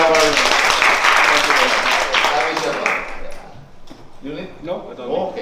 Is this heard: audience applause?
yes